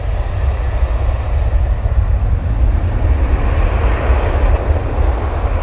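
A Turkish Airlines plane arriving at Manchester Airport gives a loud, steady low roar with broad rushing noise and some wind buffeting, continuous and close throughout.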